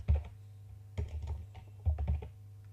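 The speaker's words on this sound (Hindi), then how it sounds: "मैं यहाँ पे टेक्स्ट टाइप कर रहा हूँ" Computer keyboard keys being typed in short bursts, entering text with the text tool in CorelDRAW; close, clear clicks in three quick clusters with no talking.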